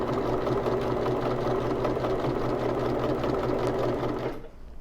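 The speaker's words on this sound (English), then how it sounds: "here I am sewing up that curved side that I just cut." Sewing machine stitching a curved side seam, a loud, close, steady whirring run that stops abruptly near the end.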